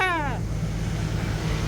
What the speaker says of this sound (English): We got the engine fan running on this thing, so it doesn't fuck up.